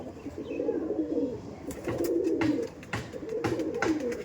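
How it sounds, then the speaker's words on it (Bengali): Kalanka-eyed pigeons, a female among them, cooing steadily in a loft: overlapping throaty coos come in waves alongside faint chirps, clicks and light rustling, with no one speaking. "কিন্তু সব কালাঙ্কা চোখের পায়রা"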